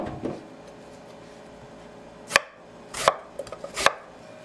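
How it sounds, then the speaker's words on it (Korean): A knife slices onions thinly on a cutting board in a quiet kitchen, with three or four sharp, separate cuts in the second half after a near-silent start. "사실 이 정도로 양파가 많이 필요한 건 아니지만 오늘의 목적은 양파 털기이므로 최대한 슬라이스 해줬어요."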